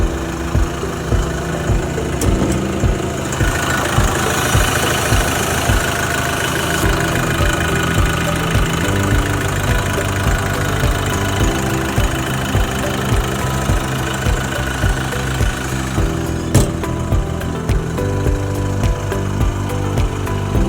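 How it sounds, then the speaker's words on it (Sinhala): A Komatsu WA50-1 wheel loader's four-cylinder Komatsu 4D95S diesel engine, 2.7 litres and 55 horsepower, runs steadily nearby with a loud, rough idling clatter that never lets up and no talk over it. "4D95S කියන සිලින්ඩර් 4ක cc 2700ක හෝස් පවර් 55ක බලයක් තියෙන එන්ජින් එකක් තමයි මේ මැෂින් එකේ තියෙන්නේ"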